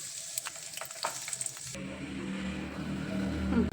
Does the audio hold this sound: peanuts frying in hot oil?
yes